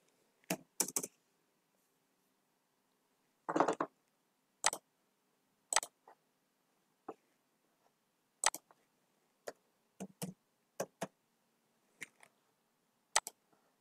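Sparse, crisp keystrokes on a computer keyboard while writing HTML code, single taps and short clusters scattered across a quiet room, close and fairly faint.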